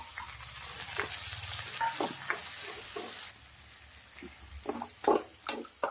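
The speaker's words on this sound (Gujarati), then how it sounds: "ડુંગળી સોટી થઈ ગઈ છે" Sliced onion with garlic and ginger sizzles steadily in oil and butter in a pan, a close frying hiss broken by occasional stirring scrapes and clinks.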